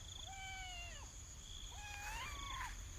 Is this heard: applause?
no